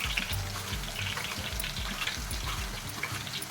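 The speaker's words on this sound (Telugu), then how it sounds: "కడాయిలోకి సరిపడినన్ని చిప్స్ని తురుముకొని ఫ్రై చేసుకోవాలి" Grated raw banana chips fry in hot oil in a kadai, Kerala style, giving a steady, close bubbling sizzle with soft crackles throughout and no voices.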